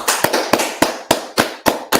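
A group claps together in a steady, even rhythm, roughly four sharp claps per second that sound near and punchy, with no talking over them.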